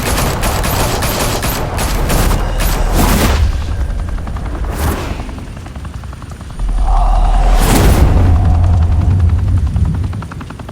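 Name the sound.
gunfire in Batman: The Telltale Series video game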